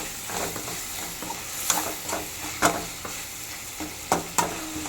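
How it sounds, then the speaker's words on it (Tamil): Onion, tomato and ginger garlic paste sauté in a pan for a squid gravy, with a steady sizzle and repeated sharp scrapes and taps of a stirring spoon. "இப்போ நல்லா அதை வதக்கணும்."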